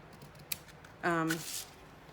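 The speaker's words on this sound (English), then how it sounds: "I'm gonna take my ribbon scissors and I'm gonna trim those" A single quick snip of ribbon scissors trimming a ribbon's edge at an angle, close by, with a brief scraping cut, fairly quiet in an otherwise still room.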